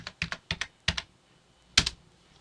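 Keys clatter on a computer keyboard during data entry for an accounting exercise, several quick bursts of two or three close, crisp clicks separated by short pauses, with one final louder pair.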